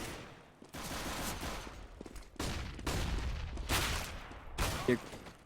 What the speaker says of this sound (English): Now Neo with a quick shot onto Minis, opening up on the A bomb